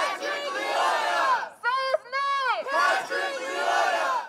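A protest march crowd chanting in loud, rhythmic unison, near and sustained, with a short pause in the middle before the chant resumes.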